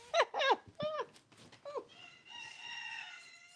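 A rooster crows close by in a series of harsh, rising calls, followed by a longer drawn-out crow trailing off.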